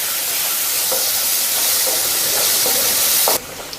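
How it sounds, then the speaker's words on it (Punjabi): Chopped onion frying with cumin and asafoetida in a pan gives a steady, loud, close sizzle throughout, with a few faint stirring clicks, before dropping off abruptly near the end. "ਮੈਂ ਇੱਕ ਮੀਡੀਅਮ ਸਾਈਜ਼ ਦਾ ਪਿਆਜ਼ ਚੋਪਰ ਦੇ ਵਿੱਚ ਪਾ ਕੇ ਚੰਗੀ ਤਰ੍ਹਾਂ ਚੋਪ ਕਰ ਲਿਆ ਤੇ ਇਸ ਨੂੰ ਆਪਾਂ ਥੋੜਾ ਜਿਹਾ ਭੁੰਨਾਂਗੇ"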